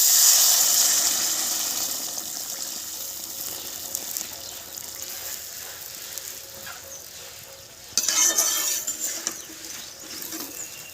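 Water pours steadily into a pan of crab curry, a continuous hissing gush that fades slightly before a fresh louder splash near the end.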